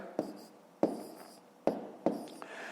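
A pen scratches numbers onto paper while working out a column multiplication, making four short, crisp strokes spaced apart with quiet pauses between them.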